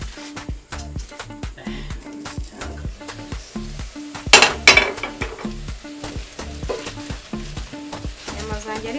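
Chips frying in a pan and being stirred, a steady sizzle with repeated scraping stirs over rhythmic background music and a louder clatter near the middle.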